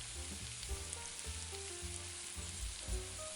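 Onions fry in olive oil in a deep pan, giving a faint, even sizzle that holds steady with no talking over it.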